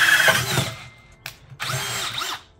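A power drill runs in two close bursts while drilling during a CV6 engine build on a Holden Monaro, whirring loudly then stopping, with a brief tap between the runs.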